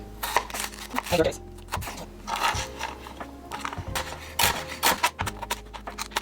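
Knife slicing celery and carrots into thin slits on a cutting board, a series of sharp, close chops and scrapes in an irregular rhythm while a person talks throughout.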